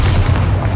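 Bombarda spell blast in Hogwarts Legacy: a single loud, deep boom lasting under a second, heavy low rumble with no voices over it.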